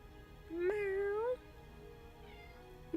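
A single cat meows clearly up close, one drawn-out, slightly rising call that stands alone against quiet background hiss.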